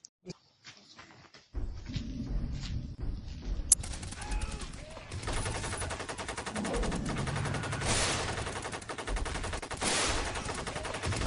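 Gunfire erupts in a short film scene where a dinosaur is shot, rapid repeated bursts after a brief quiet start, loud and sustained with short lulls.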